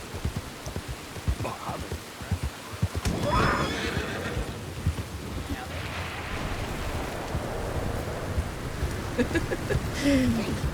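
A horse in Red Dead Redemption 2 whinnies in a wilderness setting, with rhythmic clip-clop of hooves over a rushing, rain-like ambient wash, while someone talks faintly at times.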